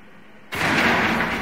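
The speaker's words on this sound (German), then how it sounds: "Genau, wirf direkt eine Granate rein." A grenade thrown into a room in Rainbow Six Siege Terrorist Hunt goes off as one sudden loud blast after a quiet moment, followed by a sustained roaring rumble.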